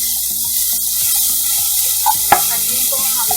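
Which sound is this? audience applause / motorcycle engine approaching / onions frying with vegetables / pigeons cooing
onions frying with vegetables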